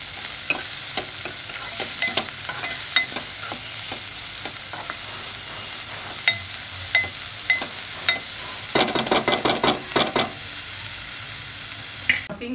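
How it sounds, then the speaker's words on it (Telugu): Thinly chopped onion fries in hot oil until brown, hissing steadily while a spoon stirs with repeated sharp scrapes and taps, rising to a quick burst of stirring near the end. "సన్నగా తరుక్కున్నాను నేను. ఈ బ్రౌన్ కలర్ వచ్చేంత వరకు వేగాలండి బాగా."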